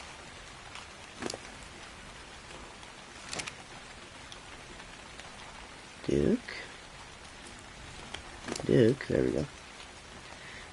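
Rain patters softly and steadily as a constant faint hiss, with a few sharp clicks and occasional short bursts of speech over it.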